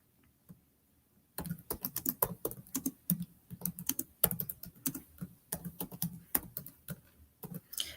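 Typing on a computer keyboard while a question is entered into a multiple-choice online form, with steady bursts of close, crisp key clicks after a quiet start and no talking.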